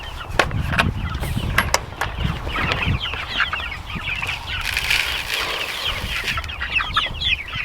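Black and white chickens cluck and scratch in a garden pen with fresh grass, with intermittent wing flaps and sharp rustling nearby, steady and moderately close.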